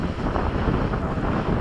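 Steady wind buffeting the microphone at a model airplane flying field, a continuous low rushing roar with no breaks, close and fairly loud throughout.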